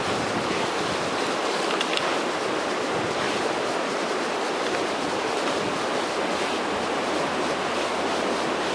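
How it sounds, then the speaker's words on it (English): Strong cold wind roaring across an open outdoor spot, a loud unbroken broadband rush close to the microphone with small gusty swells throughout. "The wind picked up."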